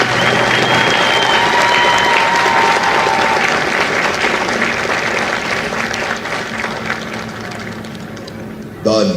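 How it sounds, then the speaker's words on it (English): Loud applause and crowd noise at a Marine Corps recruit graduation ceremony in San Diego, honoring Company G staff; a broad roar of clapping with voices mixed in, gradually easing before a sharp sound at the end. "please join me in a round of applause for the company staff of Company G"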